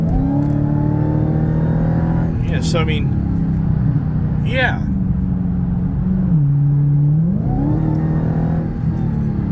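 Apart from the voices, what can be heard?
Dodge Challenger Redeye supercharged engine revving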